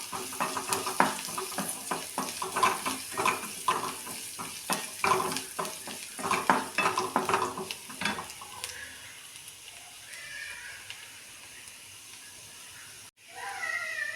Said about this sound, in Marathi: ह्याच्यामध्ये थोडंसं हळद घालून घेते मी आता परत ह्याला परतून घ्यायचं आहे